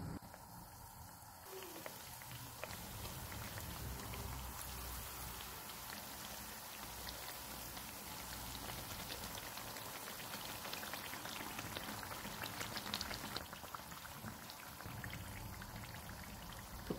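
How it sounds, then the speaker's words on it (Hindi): Batter-dipped eggplant pakora fries in hot oil over a low to medium flame, giving a steady, dense bubbling hiss that continues evenly throughout, moderately faint, with no talking. "बैंगन का एक पीस लेंगे, इसे बैटर में डिप करके फ्राई कर लेंगे।"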